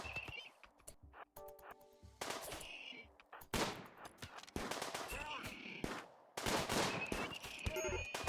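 Gunfire in the colony-survival game Rimworld, rapid irregular bursts of shots and sharp cracks separated by short gaps, loud and close.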